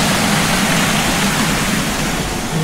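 Water flowing at Mount Collinson Catchwater, a loud, steady rushing like a waterfall or fast stream, close and continuous with no talk.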